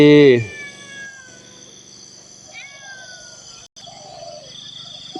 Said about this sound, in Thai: แมวเหมียวมานั่งรอหลวงปู่กันแล้ว